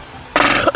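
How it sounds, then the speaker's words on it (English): A single short, harsh cough bursts out after a moment of quiet, close and fairly loud, with no talking around it. "Sorry for the coughing"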